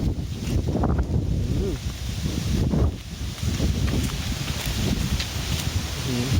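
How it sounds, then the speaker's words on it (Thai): Strong gusty wind blows outdoors in a garden ahead of possible rain, roaring and buffeting the microphone continuously while someone speaks. "ลมแรงมากครับ ไม่ได้ตั้งตัวเลยครับผม"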